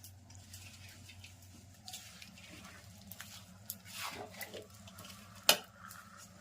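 Sticky sweet mixture being stirred and pressed in a metal pot, quiet scraping and clinks of a spoon against the vessel with a sharper clank near the end, no talk.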